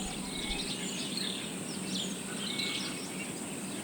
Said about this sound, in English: Below the cacophony of birdsong, Welsh forests in spring host another less conspicuous but equally important rebirth